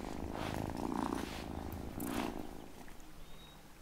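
A cat in the farming game Wylde Flowers purrs close up in slow, rumbling waves, with two louder swells that fade toward the end and no talk over them.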